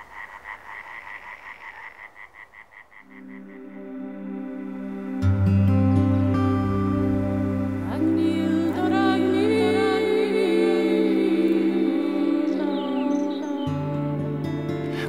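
European tree frogs croak in Denmark with a fast, rhythmic pulsing chorus, loud at first and alone. Swelling sustained music then rises over the croaking and largely covers it.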